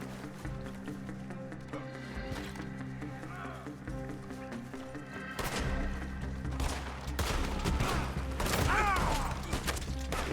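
Gunfire in Red Dead Redemption 2, a bounty-hunting shootout with scattered shots and bursts building into heavier volleys toward the end, mixed with game music and effects and a player talking over it.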